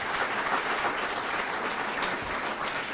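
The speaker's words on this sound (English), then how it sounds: "Please give our mayoral candidates a round of applause" An audience at a Davenport mayoral candidate forum gives a steady round of applause, with continuous, evenly sustained clapping from a moderately distant crowd.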